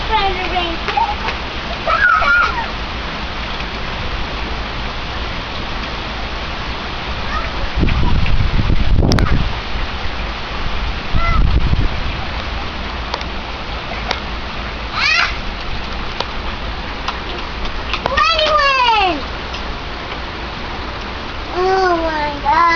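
Steady rain hisses and patters outdoors, with splashes and a few louder splatters as children play in it, their high voices and squeals coming and going over the wash of the rain.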